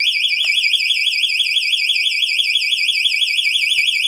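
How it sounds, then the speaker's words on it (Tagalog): Wireless anti-theft motorcycle alarm sounding a loud, continuous warbling electronic siren that rises and falls rapidly and holds steadily without pause. "Tapos pag nagalaw siya ulit, mas matagal yung alarm."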